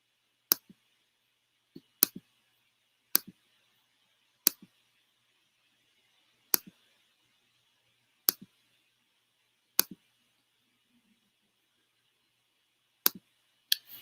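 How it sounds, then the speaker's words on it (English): A computer mouse clicks sharply in close, crisp pairs spaced irregularly a second or two apart, about a dozen clicks over a quiet background. "Sorry for all the clicking."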